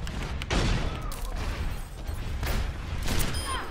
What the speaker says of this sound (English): Freaking Junkrat and Pharah, they were just flying all around, throwing their bombs all over the place.